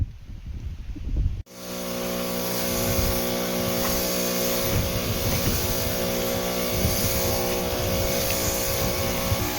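A motorized sprayer pump runs in a soybean field, its small engine cutting in abruptly after a short burst of other noise, then holding a steady, loud, buzzing drone with a constant pitch.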